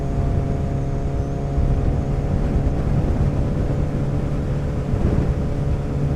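Motorcycle engine on a Sunday ride, a steady loud drone with heavy wind rush and no distinct gear-change breaks, no voices.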